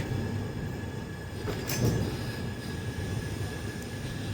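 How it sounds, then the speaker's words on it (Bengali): An LHB-coach Radhikapur Express train rolls into platform 3 at New Farakka Junction at night, a steady close rumble of wheels and cars with a brief brighter squeal midway, no voices. "নিউ ফারাক্কা জংশনে 3 নম্বর প্ল্যাটফর্মে আমাদের ট্রেন এলো রাত 2:14"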